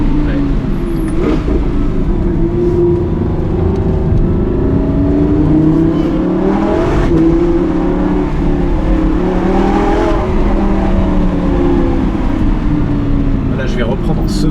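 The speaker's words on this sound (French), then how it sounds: "je vais reprendre en seconde, je vais pas remettre la première. On repart de haut, on va dans les tours" Audi R8 V10 Plus with a Capristo exhaust, its engine droning steadily in second gear and rising through the revs as it pulls, loud and continuous from inside the cabin, with someone talking over it.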